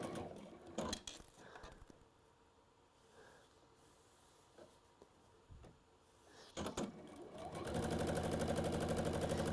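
Sewing machine stitching fabric starts up near the end with a loud steady whirr, preceded by quiet handling clatter and rustling.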